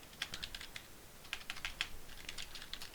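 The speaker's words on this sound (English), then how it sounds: "I can't type." Quiet, close typing on a computer keyboard comes in two short bursts of light key clicks separated by a brief pause.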